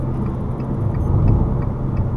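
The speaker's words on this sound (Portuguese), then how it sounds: "Deixa eu reduzir a quinta marcha." Fiat Toro 1.8 Flex with six-speed automatic cruising near 112 km/h after a downshift to fifth, a steady low engine hum and road rumble heard from inside the cabin, with faint rattles.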